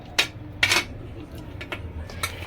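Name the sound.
chopped carrots being added to the pan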